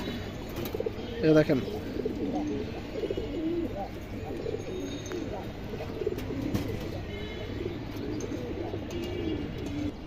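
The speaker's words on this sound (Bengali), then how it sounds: "সিলভার জাবরা কবুতর" Pigeons at a sale, among them a silver jabra pigeon, coo in low, rolling calls close by. A louder flurry comes early on, and someone talks briefly over the birds.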